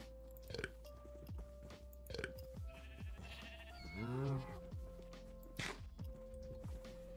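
A sheep in Minecraft TerraFirmaCraft gives a clear wavering bleat at mid-distance, set among repeated game chewing and clicking sounds with a steady low hum beneath.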